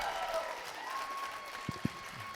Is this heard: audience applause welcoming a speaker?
yes